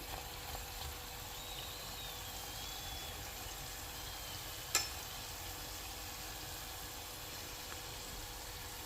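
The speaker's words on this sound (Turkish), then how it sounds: "Evet bu şekilde kızartıyoruz." Steady, soft sizzling of kaçamak dessert frying in oil, a constant crackling hiss with one brief louder click midway.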